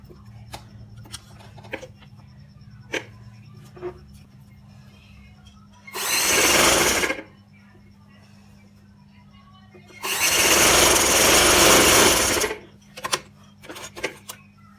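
A sewing machine stitches a dhoti shalwar in two loud bursts, one short and one longer, separated by quiet stretches with scattered light taps and clicks.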